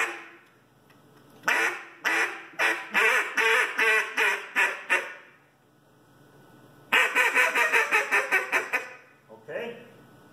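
A duck call imitating a mallard hen sounds a run of loud, evenly spaced quacks, pauses, then a second fast series of quacks, close and clear.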